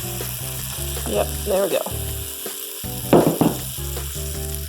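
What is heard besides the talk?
pancakes frying in bacon grease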